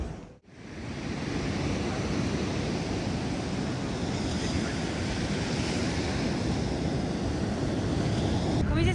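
Sea waves wash steadily onto the shore at the seaside, a continuous loud surf roar with wind buffeting the microphone throughout.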